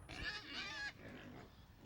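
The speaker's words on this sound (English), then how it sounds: "This is all the pigs." Pigs on a farm in Lafayette, Louisiana let out a single faint, nasal grunting squeal lasting under a second, followed by quiet farmyard ambience.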